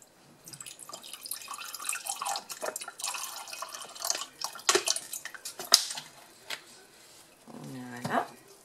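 Vinegar poured into a cup of hot water gives close, uneven splashes and trickling liquid sounds that swell and fade, with a brief voice near the end.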